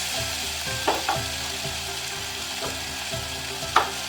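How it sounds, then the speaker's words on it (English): A pan of Irish stew base with flour stuck to the bottom is deglazed with vegetable broth, giving a steady close sizzle broken by several scraping stirs at irregular intervals; no talking. "We're going to deglaze it with our vegetable broth."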